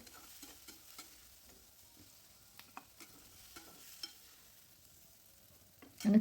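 Quiet, faint roasting of spice masala in a kadhai with soft scattered stirring scrapes, ending in a brief louder clatter.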